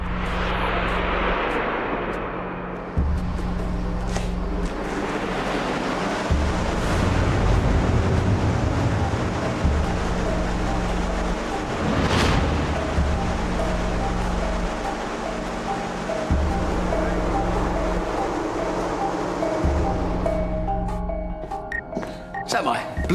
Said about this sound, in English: Now I'm going to make it a windy day and test it.